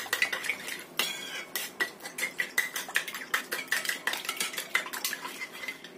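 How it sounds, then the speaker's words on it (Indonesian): A utensil whisks a tempeh mixture with mushroom stock powder in a bowl, giving rapid, steady metallic clinks and scrapes against the dish, close up and alone, for about six seconds. "Kocok sampai tercampur rata"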